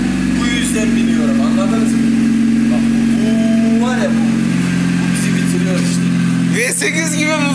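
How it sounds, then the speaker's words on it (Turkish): Engine of a Murat 124 car running with a faulty middle or rear exhaust muffler, a steady low droning rumble held throughout with people talking over it. "Orta susturucuda sıkıntı var herhalde."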